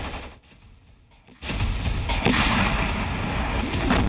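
Gunfire from a fight on the Pakistan–Taliban border: after a quieter opening second, a dense, loud stretch of rapid shots and rolling bursts carries on to the end with no talking.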